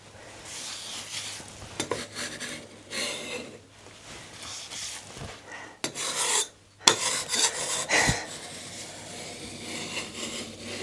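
Plaster wall surface being scraped during a house renovation: repeated rough rasping strokes, close and fairly loud, in uneven bursts with short pauses between them and no talking.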